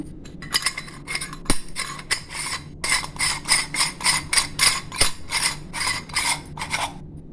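A metal single-star plate is fitted into a murukku press, giving a series of sharp metallic clicks and clinks, some irregular and some in quick rhythmic bursts, close and distinct with no talking.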